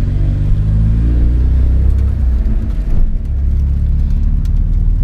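A VW Gol running on 15-inch wheels drives along a road, giving a loud, steady low engine and road rumble from inside the car with a brief bump midway.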